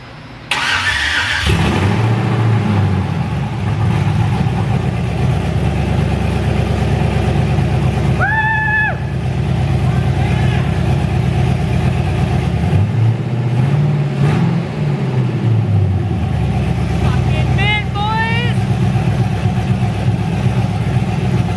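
A 1986 GMC Sierra truck with a swapped-in LS engine cranks and fires on its first start, then settles into a loud, steady run close by, with two swelling revs partway through and faint whistling tones above.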